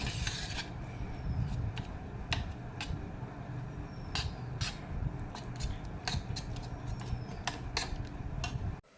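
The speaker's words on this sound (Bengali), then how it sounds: "পালং শাকটা একটুকু চামচ দিয়ে চটকে নিচ্ছি মানে একটু ঘষে নিচ্ছি" A spoon mashes spinach against a dish beside hot khichuri, making irregular light clicks and scrapes that tap out unevenly at close range over a low background hum.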